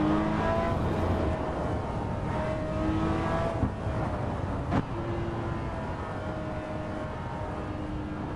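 A Porsche in a racing video game drives along an open road, its engine a steady, continuous drone with shifting pitch and a couple of brief clicks, heard alone without talk.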